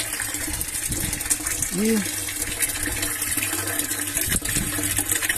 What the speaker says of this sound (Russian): сейчас набираю в него воды.